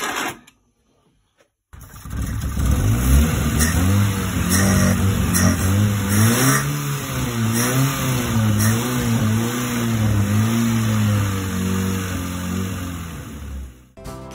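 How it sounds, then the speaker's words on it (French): A car engine cranks after a brief silence, catches and settles into a varying idle with repeated rising and falling revs, close and fairly loud, with a faint high whine above. "j'ai réussi à démarrer le moteur de la voiture"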